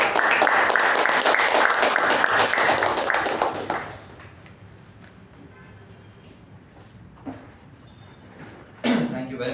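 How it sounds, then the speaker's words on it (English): Loud, dense applause from a Toastmasters meeting audience for about four seconds, then it drops away to quiet room noise with a few faint knocks before a brief rustle. "please help me welcome our President, Toastmaster Shuba, with the resounding round of applause."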